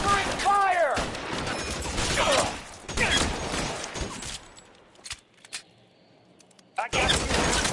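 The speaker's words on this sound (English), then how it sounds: "Covering fire!" Gunshots crack in a shootout in the video game L.A. Noire, sharp reports scattered across the first half under shouted voices, followed by a quieter lull and another burst near the end.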